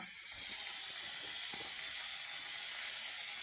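Onions and potatoes frying in oil, a soft, steady hiss of sizzling with faint stirring knocks, fairly quiet and without talk.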